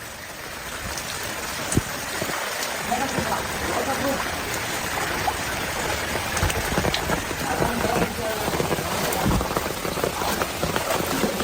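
Floodwater streams and splashes around flooded houses, a steady broadband rush with rain-like patter filling the whole stretch, while voices talk faintly underneath.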